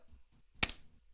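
A single sharp hand clap struck to sync a podcast recording, loud and close, rising once out of quiet room tone between faint murmurs just before it.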